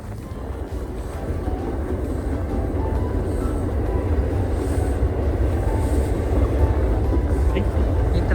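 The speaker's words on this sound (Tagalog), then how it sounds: "There is a train." Out in a New York City snowstorm near Bronx Park East, a train rumbles by with a steady low roar that builds slightly, heard from outdoors with faint voices nearby.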